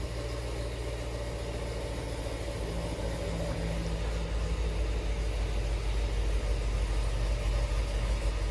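A Chevrolet Camaro ZL1 fitted with a bigger supercharger idles at its first startup, a steady low engine rumble that swells slightly toward the end. Nearby and continuous, with no voices over it.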